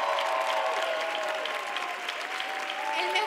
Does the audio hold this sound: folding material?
no